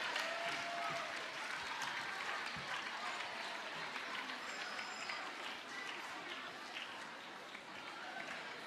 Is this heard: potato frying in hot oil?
no